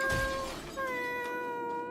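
A cat in the video game Honkai Star Rail gives two clear, close meows. The first is short, and the second is longer and drawn out.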